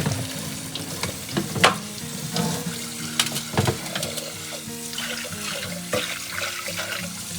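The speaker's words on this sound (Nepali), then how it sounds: "अब यसलाई चाहिँ पखाल्नु पर्ने हुन्छ। चिसो पानीमा" Buff meat being washed in cold water in a pot, with running water, sloshing and clattering stirring that continues steadily up close and carries no speech.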